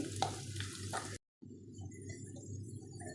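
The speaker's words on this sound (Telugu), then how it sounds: "జీడిపప్పు వేసుకోవాలి ఒక ఐదు నిమిషాలు బాగా ఫ్రై చేసుకోవాలి" Cashews frying in a hot pan with chopped carrot, a steady close sizzle with a few scraping stirs, briefly cut to silence before the frying resumes.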